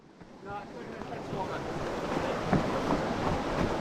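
Steady rushing roar of water at a huge waterfall during an adventure race in New Zealand, building within the first half second and then holding loud and unbroken, with gusts of wind noise on the microphone.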